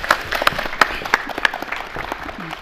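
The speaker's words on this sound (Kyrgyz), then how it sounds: "Дагы бир жолу кол чаап койсоңуздар" Studio audience applause in a television talk-show studio, with several sharp, distinct claps standing out over lighter scattered clapping that gradually thins toward the end.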